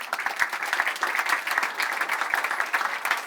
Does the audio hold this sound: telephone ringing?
no